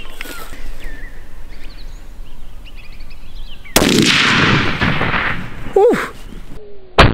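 A rifle fitted with a muzzle brake fires one loud, sharp shot outdoors near a lake, then a long, rolling echo that fades slowly, followed by a brief exclamation.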